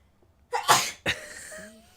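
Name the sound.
someone sneezing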